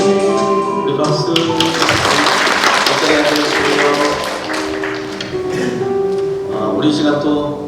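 Applause from a church congregation mixed with music and voices, a steady rattling clatter of many hands clapping under sustained tones, loud and continuous throughout.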